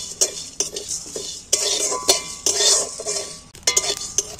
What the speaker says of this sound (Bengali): দেখো ভাজা হয়ে গেছে, পরপরে আওয়াজ ভাজা চড়বড় করছে।